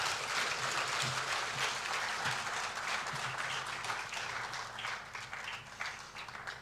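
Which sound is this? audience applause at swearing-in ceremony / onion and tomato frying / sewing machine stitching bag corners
audience applause at swearing-in ceremony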